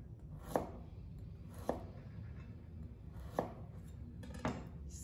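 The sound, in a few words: knife chopping beets on cutting board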